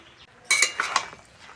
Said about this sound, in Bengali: আর একটু কষে নেব, আর একটু ঘেটে ঘেটে দেবো